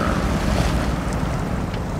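A heavy crawler truck in the Snowrunner video game ploughs through deep water, giving a constant loud sloshing rush with an engine drone underneath and no talking.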